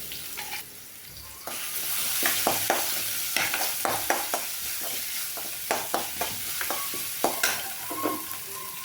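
Mustard seeds, cumin, fenugreek and a little onion fry in hot oil for a tempering, giving a constant bright sizzle broken by a run of sharp, rhythmic spoon clacks against the pan.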